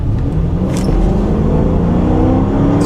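A 2015 Chrysler 300 or Dodge Charger accelerates with a steady, loud, close engine drone and low rumble, heard alone with no talking.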